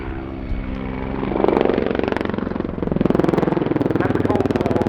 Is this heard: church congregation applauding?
no